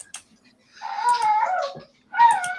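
A couple of drawn-out, whiny meows, a short one and then a longer one, close by in an otherwise quiet room.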